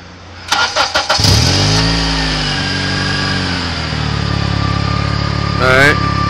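A car engine cranks with a few rapid starter bursts, catches and settles into a steady idle while being checked for an exhaust leak, with a brief revving swell near the end; people talk over it.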